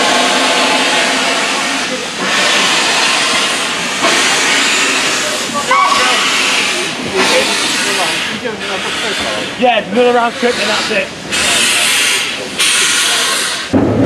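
Loud, continuous steam hiss from BR Standard Class 4 locomotive 75069 on a heritage railway, running close by for the whole stretch with brief breaks, while people talk over it.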